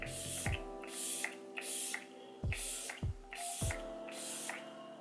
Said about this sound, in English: I'm going to go ahead and take the Pretty Fresh setting spray